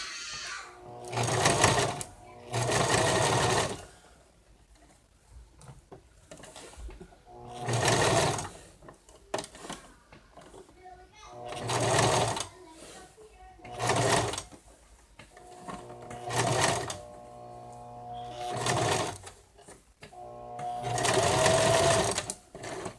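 A sewing machine stitches fabric for a stuffed bear in a series of short bursts, each a few seconds of rapid whirring needle chatter, separated by pauses with quiet handling noises as the fabric is turned.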